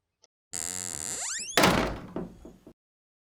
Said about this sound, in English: the lady just shut the door without saying anything